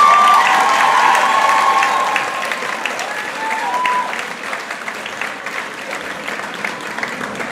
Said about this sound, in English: So big round of applause for all the seniors, please.